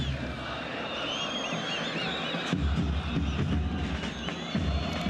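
A football stadium crowd at an AFC Champions League group match between Al Faisaly and FC Nasaf keeps up a steady background din of chanting and shouting, with a commentator talking over it.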